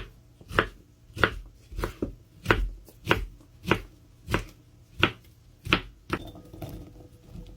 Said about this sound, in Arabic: نقطع الخيار